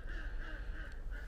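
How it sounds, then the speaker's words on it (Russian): Neighbours' ducks quack in a southern garden, a faint distant chatter of calls over steady outdoor background noise. "тут у соседей утки."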